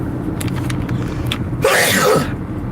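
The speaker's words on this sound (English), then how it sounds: "I've been sneezing all day" A single loud sneeze from a man with a cold bursts out about two-thirds of the way through, over a steady low background hum.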